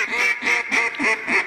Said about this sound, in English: I see a lot of ducks up there.